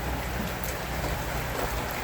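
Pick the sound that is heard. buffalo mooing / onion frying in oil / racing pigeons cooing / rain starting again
rain starting again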